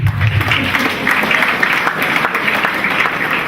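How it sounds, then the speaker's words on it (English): Dense, steady applause from an audience at an annual youth seminar, clapping for the students of Rainbow College; the clapping is loud and close and holds evenly throughout without a break. "Please give them a clap"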